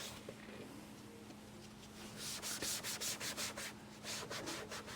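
Rough, weathered black plastic exterior car trim is being scrubbed, giving a close, faint, gritty rubbing. Quick rhythmic strokes grow stronger in the second half.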